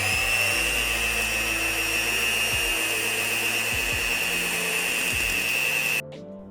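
An electric hand mixer whips dalgona coffee into a thick cream, a steady loud motor whine with its pitch shifting as the beaters work, running continuously before cutting off near the end.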